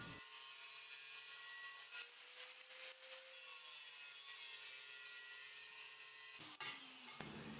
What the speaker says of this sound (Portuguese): a gente vai utilizar a lixadeira com disco de corte. Para fazer o corte aqui